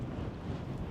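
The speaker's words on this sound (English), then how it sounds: "the wind and clouds are a little relentless at the moment" Relentless winter wind blows outdoors, a constant low rumble of gusts battering the microphone with nothing else audible.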